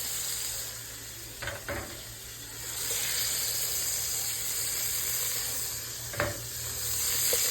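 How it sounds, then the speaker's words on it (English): Pork chops and meatballs browning in a pan give a steady, close sizzle with a constant hiss, broken by a few brief clatters of handling or turning. "So I'm just gonna brown these a couple minutes on each side"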